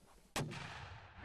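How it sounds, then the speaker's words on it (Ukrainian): One sharp, heavy mortar blast cracks out during a Ukrainian military training exercise, followed by a long rumbling echo that slowly fades. "Вогонь! Міномет! Постріл!"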